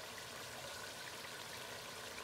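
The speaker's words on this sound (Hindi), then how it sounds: "क्वार्टर कप पानी डाल रही हूँ मसाला भूनने में" Quarter cup of water pouring into masala frying in a pan for chicken nihari, a soft continuous splashing and sizzling wash heard close and alone, with no talk.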